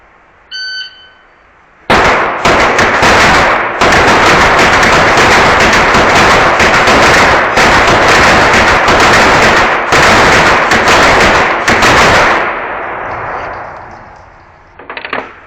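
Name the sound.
Glock pistol gunshots at indoor sport shooting event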